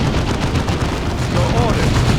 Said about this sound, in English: Orcs are firing on us!